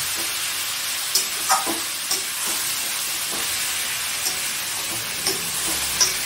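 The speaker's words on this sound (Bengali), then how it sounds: "মাটনগুলো দিয়ে আমি কষছি।" Mutton being stir-fried in spiced masala for mutton kosha gives a continuous dense sizzle and hiss, with occasional soft stirring knocks and scrapes rising over it.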